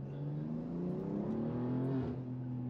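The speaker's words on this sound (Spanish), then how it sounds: "you still hear the exhaust when you like pull through to top revs, but you still have those lovely turbo intake noises low down" A tuned BMW M3 G80 making about 700 hp gives a steady exhaust drone with turbo intake whir, its pitch climbing slowly as the revs build, heard alone without talk.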